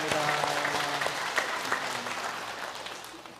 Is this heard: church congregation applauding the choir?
yes